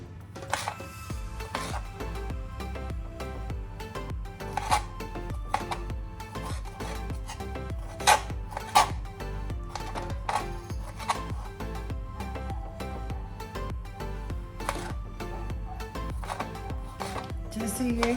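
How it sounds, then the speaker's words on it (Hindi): A knife chops strawberries into small pieces on a board for homemade strawberry jam, giving a steady run of close, crisp taps and knocks over a constant low background hum. "हमने अपनी स्ट्रॉबेरी को काट लेना है। छोटे छोटे पीसेस में काट लेने हैं हमने इसको।"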